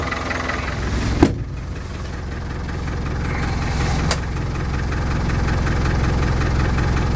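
A Land Rover Defender's engine idles steadily, heard from inside the cab as a low, even rumble with a couple of brief clunks near the start.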